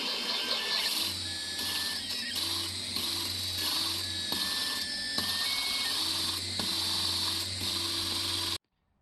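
An engine valve is lapped into its seat on a big-block engine using the old worn valve. It makes a continuous close grinding whir with a steady hum underneath and brief scraping squeaks.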